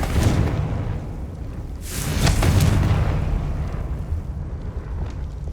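Confringo fire-blast spells exploding in Hogwarts Legacy, a loud rumbling boom opening the clip and a second heavy blast a couple of seconds later, each with a crackling roar that trails off slowly, no speech.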